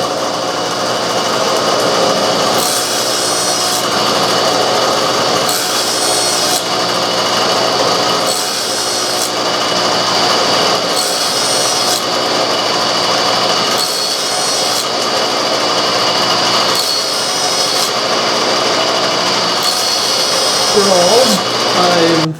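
A power tool cuts model tire treads on an indexing jig set at an angle, whining steadily with regular pauses every few seconds as each cut is made, loud and close throughout.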